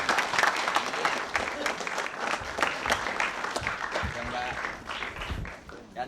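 Studio audience applause for contestants on a televised quiz show, a sustained burst of clapping from a crowd with a host's voice talking over it.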